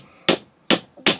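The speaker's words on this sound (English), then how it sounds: "Just hammer that out, or you can chop it off." Three sharp, close metallic strikes spaced evenly apart ring out as a hammer peens a pop rivet on a Kydex knife sheath for a tanto knife.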